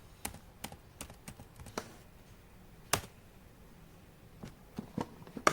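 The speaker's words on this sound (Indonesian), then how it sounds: "Dan ini adalah hasilnya ketika sudah diinput dengan keyboard." Typing on a computer keyboard: scattered, crisp keystroke clicks in irregular bursts, close and fairly quiet, with short pauses between clusters and no voices.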